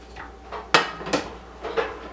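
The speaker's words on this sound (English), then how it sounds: "We need to get a frying pan out at the bottom of the stove." Large frying pan pulled out from the drawer beneath a stove, giving a few sharp metallic clanks and knocks, two of them louder and close, with quieter rattles between.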